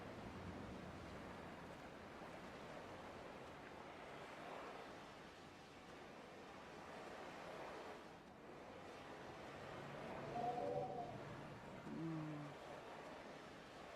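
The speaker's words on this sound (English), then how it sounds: "Scary wind sounds." Wind in the video game Dear Esther, a low, steady rushing blow that swells and fades softly throughout with no talking.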